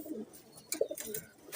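Pigeons coo at close range in a loft, short throaty bursts with soft wing and shuffling sounds between them, fairly quiet overall.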